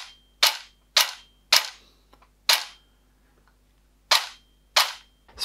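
Seven loud, close cracks from an SR25 AEG airsoft replica cycling its poorly lubricated gearbox shot by shot, with a short pause midway and no voices.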